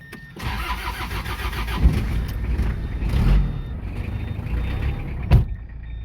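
A cold diesel truck cranks and starts in the morning at a beach house construction site, then runs with a rough, steady idle and rattle, with a couple of sharp knocks along the way.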